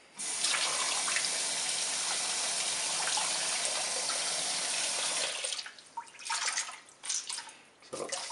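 Running water from a tap gushes steadily while rinsing a car-detailing buffing pad, then breaks into irregular splashes and drips as the pad is scrubbed and squeezed.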